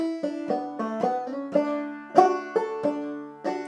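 A solo banjo plays a short, clear phrase of plucked notes, with quick pull-offs and a sliding note, bright and close with no talking.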